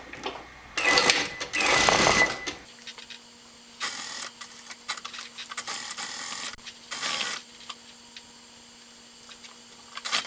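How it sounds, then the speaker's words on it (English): A sewing machine stitching a French seam a quarter inch in, running in several rapid mechanical bursts separated by pauses, the first long and loud, the later ones shorter, close up with no talk. "So I'm starting off sewing 1/4 of an inch in."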